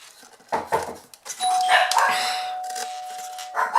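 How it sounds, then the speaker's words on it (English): A doorbell rings with a long sustained electronic tone, preceded by a few soft knocks and sounds nearby. "I think my doorbell is going to go now"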